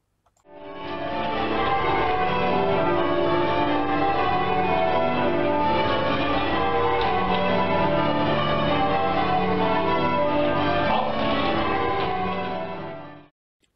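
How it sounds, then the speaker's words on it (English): Church bells at Westminster Abbey ring in change ringing, the method Stedman Caters, a dense continuous wash of overlapping bell strikes that is steady and fairly loud throughout, with no voices. "Those clips showed ringers at Westminster Abbey, and they were performing a principle called Stedman Caters."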